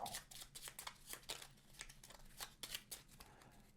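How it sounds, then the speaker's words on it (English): Bonus cards from the Castles of Mad King Ludwig board game are shuffled close up in a quick run of crisp riffling bursts, alone with no voices. "We're going to shuffle the bonus cards"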